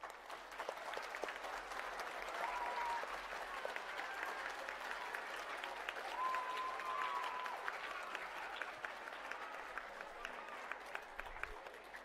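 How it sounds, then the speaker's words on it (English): Audience applause closing a municipal candidate forum in Fort McMurray, a sustained, fairly distant round of clapping from a large room that holds steady for about twelve seconds with faint murmur underneath. "Please give everyone a big round of applause."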